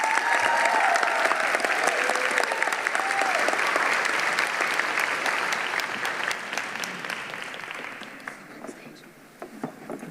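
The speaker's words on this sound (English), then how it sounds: "Let's have a round of applause for our Athletes of the Year from high school" An audience applauds high school Athletes of the Year at a county hall of fame ceremony, dense sustained clapping from a crowd with faint voices, gradually thinning and fading toward the end.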